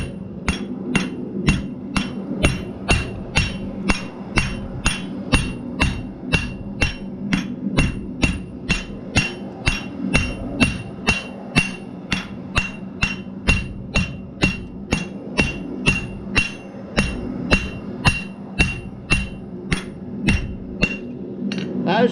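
Steel bottle opener being forged by a blacksmith, a steady run of ringing hammer blows on metal, roughly two strikes per second, close and loud throughout with no talk.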